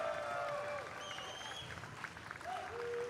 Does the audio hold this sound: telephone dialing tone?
no